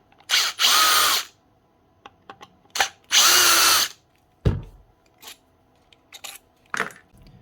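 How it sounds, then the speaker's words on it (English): Power drill removing screws from the motor of a DeWalt DWE7492 10-inch table saw, two longer whirring bursts and short trigger blips, with small metallic clinks and taps of screws and tools between them, close and without talk. "Take the screws out, down on the bottom here on the brush holder"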